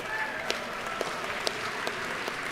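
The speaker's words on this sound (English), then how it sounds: "Let's rise and applaud and cheer on Southern Pickleball." An audience in a legislative chamber applauds Southern Pickleball with a steady wash of clapping and a few sharper claps, heard at moderate distance.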